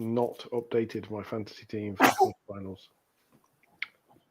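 A woman sneezes once, sharply and loudly, right after a stretch of another person's close conversational speech, followed by near silence and a faint small noise.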